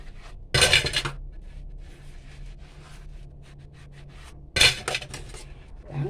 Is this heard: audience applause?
no